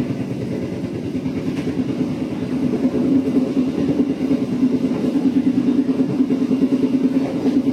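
A passenger train, the Tegal Bahari, rumbles steadily along the rails after leaving Jatinegara station, with a continuous low-pitched roar and faint rhythmic clatter, close by and fairly loud throughout.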